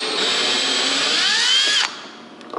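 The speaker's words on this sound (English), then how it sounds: "You can take this off by just unscrewing it like this." A power drill whines close up at steady speed, then slows and cuts out, next to the drain plug of a Lightning Kayaks Strike kayak. Only faint handling noise follows.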